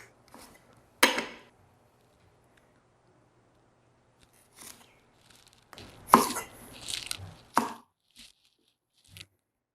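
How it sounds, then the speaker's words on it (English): A knife slices a green onion on a cutting board in a home kitchen, giving a few separate, close chopping taps spread out between quiet pauses. "Give that green onion a thin slice."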